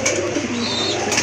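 Pigeons coo close by at a pigeon sale, giving a soft, low, rolling call that lasts about a second over a hum of background noise.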